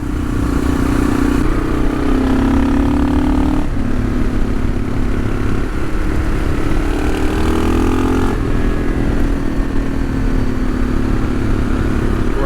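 A motorcycle on Bridgestone AX41 adventure tyres rides hard over gravel at full throttle. The engine drones loud and close, with shifts in pitch and gravel clatter underneath.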